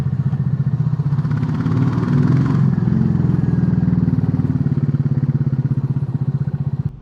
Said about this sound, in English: Royal Enfield has been able to make a stock motorcycle sound this good